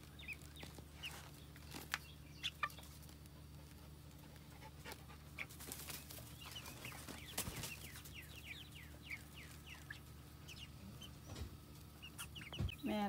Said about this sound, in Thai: มาดูไก่ที่เราเลี้ยงไว้ตอนนั้นนะคะ